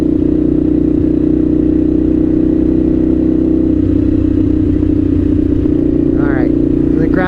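A 1998 Suzuki TL1000R fuel-injected motorcycle engine drones steadily at close range while riding, a constant loud hum with wind rumble and no change in pace; a voice speaks briefly near the end.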